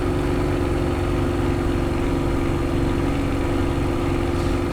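A Spitfire's aircraft engine drones continuously and loudly with the propeller RPM pushed fully forward, a dense, unbroken roar with no pauses.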